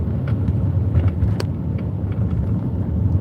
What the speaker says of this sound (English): I'm doing 25 right now and just letting the car cruise over it.